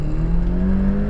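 A Nissan Silvia S15 engine holds a steady, loud drone with strong low harmonics during drift side-turn practice. The tone stays close and even throughout, with no talk over it.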